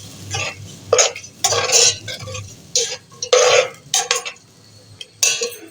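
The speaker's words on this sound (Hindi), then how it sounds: "तो इसको हम थोड़ा सा भून लेते हैं।" Green chilli paste is stirred and sautéed in a pan, with bursts of spoon scraping and clatter coming in uneven, close strokes between brief quiet gaps.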